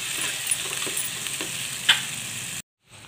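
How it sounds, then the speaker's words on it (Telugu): Paste frying in a pan while being stirred, a steady hiss with occasional light scrapes and a sharp clink, cutting to silence near the end. "పేస్టును ఇలా వేసుకొని కలుపుకోవాలి."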